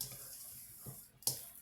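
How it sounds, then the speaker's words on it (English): A kitchen tap runs faint and steady for a quick hand rinse, with a soft hiss and a brief louder splash near the end. "let me rinse off my dirty hand here for a second"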